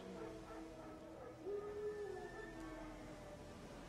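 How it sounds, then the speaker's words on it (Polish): Wild dogs in The Witcher 3 game, a whimpering, yipping canine call rising around the midpoint over a low ambient hum, moderately near and unaccompanied by talk. "Wilki? Chociaż nie. Dzikie psy."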